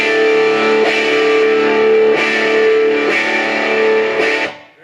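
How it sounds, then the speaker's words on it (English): Sustained electric guitar chords through an MXR Distortion+ clone pedal ringing out, re-struck a few times in a steady rhythm, loud and buzzy, fading at the end. "let's watch what happens when we step on the Distortion Plus."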